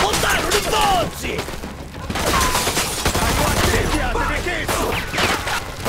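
Loud, sustained gunfire in the Mafia II video game, with repeated overlapping shots and heavy thumps amid chaotic battle noise and shouting voices.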